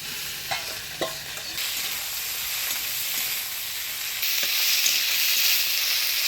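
Okra is stirred into onion and tomato in a frying pan. A continuous sizzle carries a few spatula knocks early on, and the frying grows brighter and louder in the second half, heard close with no voices.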